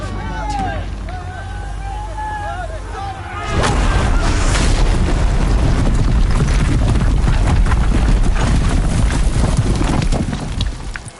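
Heavy guns fire in a battle in Horizon Zero Dawn: loud, dense rumbling booms and rapid impacts fill the scene after a few seconds of voices and calls, all set under a continuous din of combat.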